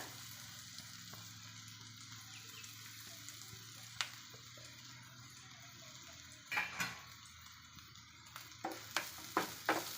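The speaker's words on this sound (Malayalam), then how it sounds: "അതിലേക്ക് നമ്മൾ ചതച്ച് വെച്ച തേങ്ങ ഒന്നിട്ട് കൊടുക്കുക" Crushed coconut going into a pan of pumpkin-leaf thoran, with a low sizzle under a quiet background hum and a few louder scrapes and stirring clatters of a spoon against the pan toward the end.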